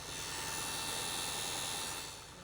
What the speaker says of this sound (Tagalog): Radiator fan, kaya ganun yung tunog.